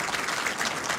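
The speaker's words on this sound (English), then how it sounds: "Wielkie brawa." An audience at a university academic year inauguration ceremony breaks into applause for an honoree, a brief burst of dense, even clapping filling the hall.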